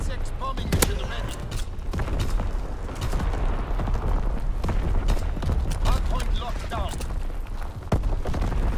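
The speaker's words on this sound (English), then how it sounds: "Incoming enemy artillery." Artillery explosions and gunfire in Call of Duty: WWII multiplayer, a constant loud battlefield of booms, scattered shots and sharp cracks, with voices speaking over the chaos.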